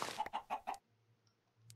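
Minecraft chicken clucking in a quick run of four short, close clucks, then near silence with a faint blip and a soft low hum at the end.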